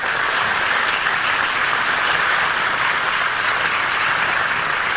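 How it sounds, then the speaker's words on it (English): A large crowd at a groundbreaking ceremony for a new Texas Tech School of Veterinary Medicine in Amarillo applauds in steady, dense clapping that holds at an even level throughout, with no talk over it. "Let's give them a round of applause."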